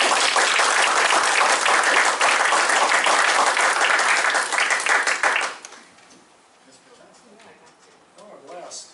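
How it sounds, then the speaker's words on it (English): Board members at a school district board meeting clap for Lacey, a loud, dense burst of applause lasting about five seconds before stopping abruptly, followed by quiet room tone and soft talk. "Can we clap for Lacey?"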